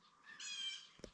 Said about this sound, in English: The blue jays are squawking up a storm too with the loons.